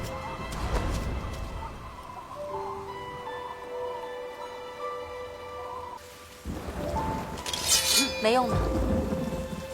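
Heavy rain pours on a windy night in a Chinese historical drama scene, a steady dense downpour with a low rumble, mixed with a musical score and a brief spoken line.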